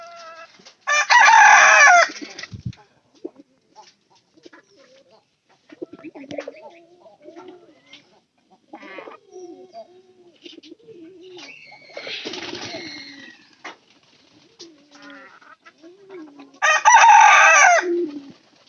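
A rooster crows loudly twice, once near the start and once near the end, with a rougher crow in between, amid clucking hens and scattered village voices in a rural Bangladeshi poultry yard.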